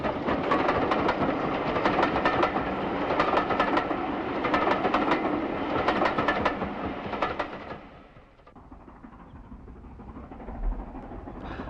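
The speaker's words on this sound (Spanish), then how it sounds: "el placer de contemplar grandes locomotoras de vapor" A steam locomotive runs on a preserved railway, a loud, dense rumble with rapid rhythmic chuffing and wheel clatter for about eight seconds before fading to a quieter rolling hum.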